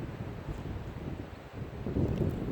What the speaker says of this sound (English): the wind is all over the place